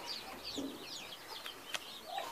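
Chickens on a farm give soft, faint clucks and chirps, with a hen sitting on eggs nearby, heard at low level without talk.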